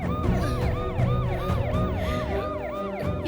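An ambulance siren wails loudly and close by in a rapid, repeating rise-and-fall pattern with a harmonic tone, over a street noise background.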